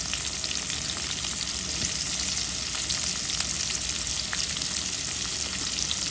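Hot oil seasoned with salt fries in a pan, giving a dense, continuous crackling sizzle that holds at an even level from start to finish.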